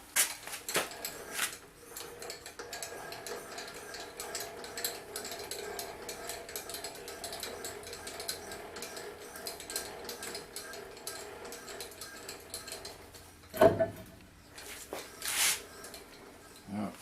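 The head of a Sanford MG surface grinder is wound down by hand, with gears ratcheting in a steady run of quiet clicks, then a couple of sharper metallic clunks near the end.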